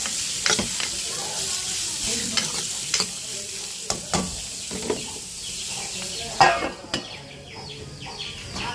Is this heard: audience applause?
no